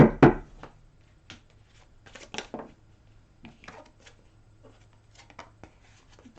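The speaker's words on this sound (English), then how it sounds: "One more shuffle." Glossy tarot cards are handled and shuffled close by. One louder riffle burst comes first, then sparse soft slides and taps of cards settling into the deck, with no one speaking.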